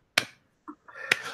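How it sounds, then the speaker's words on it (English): Two sharp, isolated claps sound about a second apart at a slow, deliberate pace, with a faint brief noise between them. "Hold on, a slow clap for that one."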